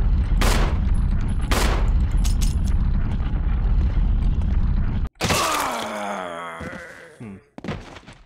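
Gunfire in the video game Resident Evil while shooting a creature, with two sharp shots over a loud rumbling background, then a burst of layered, warbling game sound effects and a final short hit.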